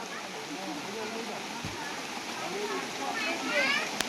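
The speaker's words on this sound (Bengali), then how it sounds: "পিকনিকে বৃষ্টি শুরু হয়ে গেছে, এদিকে পুরো বৃষ্টি হচ্ছে" Steady rain falls outdoors during a picnic while people shelter inside, a soft, even hiss of drops that continues throughout and swells slightly near the end.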